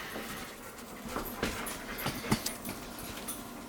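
A parents' pet dog pants and gives soft whimpers and yips nearby, quiet breathy bursts scattered through a few seconds of low background noise.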